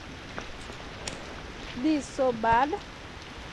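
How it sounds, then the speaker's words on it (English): Steady rain falls on an African traditional homestead with maize fields, a constant broadband hiss throughout, while a person speaks briefly over it. "It's still raining."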